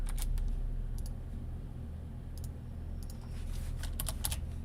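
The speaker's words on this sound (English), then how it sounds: "I'm trying to like tab complete as I'm typing it" Someone types on a computer keyboard in short clattering bursts of keystrokes with brief pauses between them, moderately close and with no talking.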